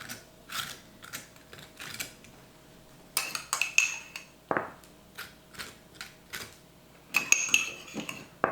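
A knife spreads hummus across a waffle sandwich, making soft scraping and tapping strokes that come in short bursts, with a couple of sharper clinks of utensil against plate, close and fairly quiet.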